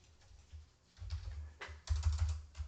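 Typing on a computer keyboard while working in ProgeCAD: soft, close key clicks in short irregular bursts, with a low background hum and no voices.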